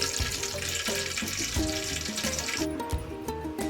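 Cumin seeds frying in hot oil in a kadai: a steady, dense sizzle that runs throughout, close and fairly loud, with faint clinks of stirring and no talking.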